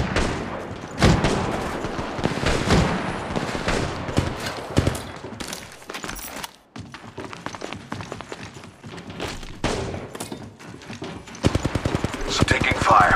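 Gunfire in the mobile battle-royale game Apex Legends Mobile, with dense rapid bursts of shots and impacts through most of the stretch, some near and loud, mixed with game effects and a voice talking over it.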